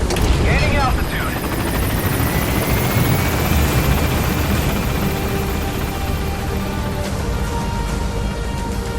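A helicopter in Metal Gear Solid V climbs with a loud, steady rotor drone and a thin rising engine whine throughout, with game voices faintly mixed in.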